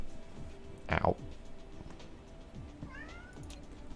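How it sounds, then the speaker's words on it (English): A cat gives one clear, close meow, followed a moment later by a shorter, fainter mew over low background hum and game sounds. "Oh my god, cat."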